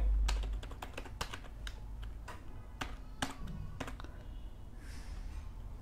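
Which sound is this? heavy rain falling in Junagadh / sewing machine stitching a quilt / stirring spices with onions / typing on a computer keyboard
typing on a computer keyboard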